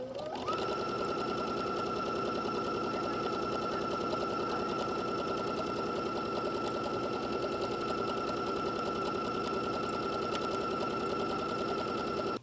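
A sewing machine runs steadily while stitching quilt seams, giving a continuous close, rapid mechanical whir and tapping for the whole stretch, with no voice.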